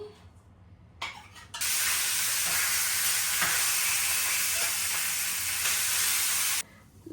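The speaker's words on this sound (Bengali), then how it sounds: "এখন এই যে প্যান বসাই দিছি, তেলও দিয়ে দিছি। এখন এই যে মাছটা ভাজা নেই।" Fish dropped into hot oil in a pan, with a sudden loud hissing sizzle that holds steady for several seconds, close up, then cuts off abruptly; no talking over it.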